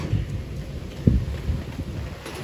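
Steady rain pattering outdoors with a low rumbling wind, and a brief louder gust or thud partway through.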